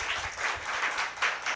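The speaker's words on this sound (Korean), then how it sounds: "우리 하나님께 박수 올려주세요." A church congregation breaks into dense, steady applause during a Sunday sermon, a full wash of many hands clapping together with no talk over it.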